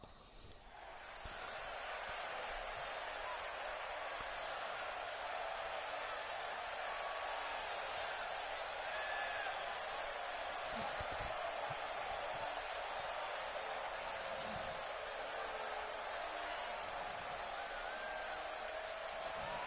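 A steady, dense crowd roar from the wrestling video game WWE 2K17 fills the whole stretch, loud and continuous with a busy arena-like wash and no clear pauses.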